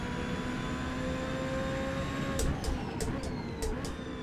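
A Ferrari engine in the Forza racing game drones steadily, then gives a rapid run of chattering clicks and pops toward the end, fairly quiet and without voices.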